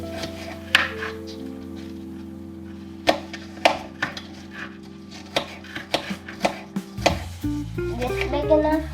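Knife chopping apples on a board for apple cinnamon pancakes in a home kitchen, a series of sharp irregular taps growing quicker toward the end over a steady background hum.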